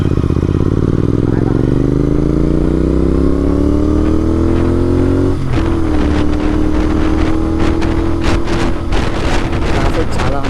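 A GT 650 motorcycle on a highway accelerates with its engine note rising steadily through a gear, then drops and climbs again after a shift, loud and close with wind buffeting the microphone.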